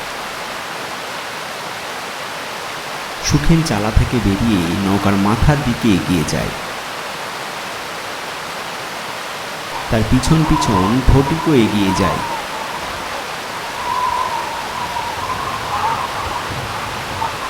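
Steady rain falls on a river at night around a boat, a constant wash of noise from start to end, with spoken narration and voices coming and going over it.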